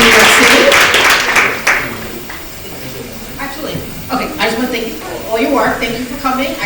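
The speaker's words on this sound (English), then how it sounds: "if we could please give him a round of applause" An audience claps at a cannabis event, loud dense applause that fades after a couple of seconds into scattered claps, with talking underneath.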